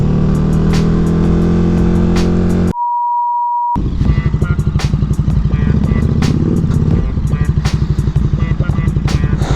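A motorcycle engine runs with a steady rumble, is cut briefly by a pure electronic beep, then returns as loud, rapid rhythmic engine pulses close by.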